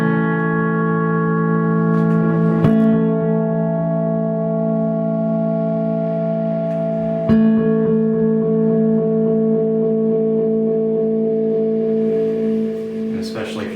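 A Madbean Cave Dweller echo pedal, modded so the dwell knob holds off oscillation, sustains a steady layered drone of stacked repeats for the whole stretch, with faint clicks as it shifts.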